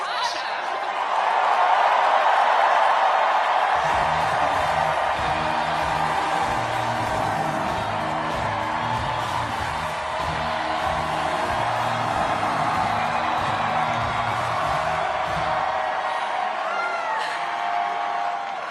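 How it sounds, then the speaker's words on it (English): A large crowd at a New York mayoral election victory rally cheers and applauds for the organizing director, a loud sustained roar of clapping and whoops running under a steady chant. "please join me in giving her the longest and loudest round of applause"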